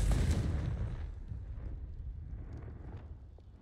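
A loud blasting burst from the Confringo spell in Hogwarts Legacy hits hard at the start, then decays into a rumbling fiery tail that fades over a few seconds.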